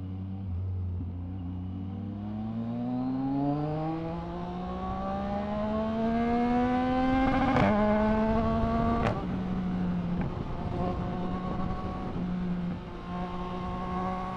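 A motorcycle engine climbs steadily through the gears while riding on a road, loud and close throughout, with a few sharp pops and cracks from the exhaust near the middle.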